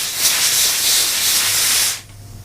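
Pressurized air hisses loudly and steadily from a leak in a Burstoff plumbing installation, then cuts off sharply, leaving a faint low hum.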